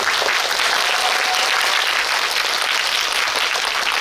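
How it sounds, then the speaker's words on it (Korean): A cinema audience at a film screening talk in Yongsan CGV hall 13 applauds actor Oh Jung-se. Thick, continuous, loud clapping fills the hall evenly for the full four seconds. "고생하신 우리 정세 배우님께 박수 한번 부탁드립니다"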